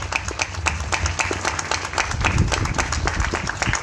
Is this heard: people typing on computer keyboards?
no